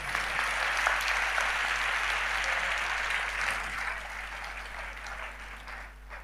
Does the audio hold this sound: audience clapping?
yes